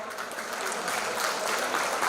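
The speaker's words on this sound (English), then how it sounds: "I request a huge round of applause" A large conference hall audience breaks into sustained applause, a dense continuous wash of clapping at even loudness throughout with no voices standing out.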